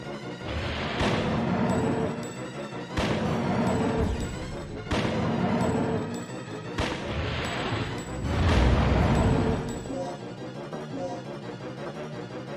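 Repeated heavy gunshots ring out in the Dino Crisis game, five loud booming blasts spaced about two seconds apart, each leaving a lingering roar that swells toward the end before fading.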